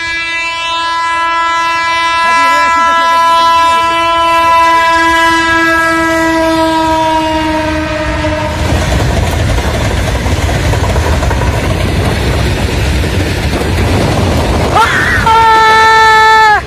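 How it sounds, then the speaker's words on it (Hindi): A train pulls into a station with a loud, sustained horn blast, then a heavy rumbling roar of passing cars and another horn at the end, close and dominant. "फाइनली ट्रेन आ गया है, तो दिखाते हैं"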